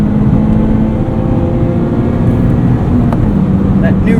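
A 2019 Mazda MX-5 Miata GT-S engine drones steadily inside the cabin, a continuous low hum that holds under someone talking throughout.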